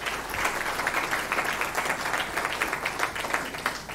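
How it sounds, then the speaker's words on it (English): An audience applauds a keynote speaker at a memorial lecture, steady dense clapping from a large crowd that carries on throughout without letting up. "Can I please request us to give him a round of applause"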